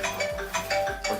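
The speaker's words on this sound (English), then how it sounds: "that is a phone call" Phone ringtone from an incoming call indoors, a short electronic melody of repeated tonal bursts with a steady underlying tone, moderately loud and alone.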